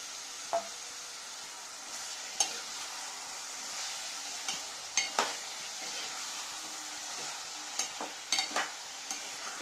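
Boiled chickpeas stirred into a potato curry in a hot pan, a steady sizzle and fry with scattered scrapes and clinks of the spoon against the pan, close and without talk.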